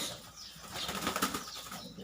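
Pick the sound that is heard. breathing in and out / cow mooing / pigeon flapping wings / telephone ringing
pigeon flapping wings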